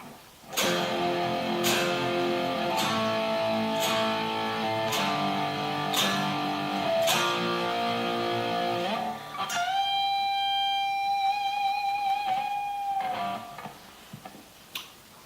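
An electric guitar plays a section of a song, with a run of clearly picked, ringing notes followed by one long sustained note that fades out.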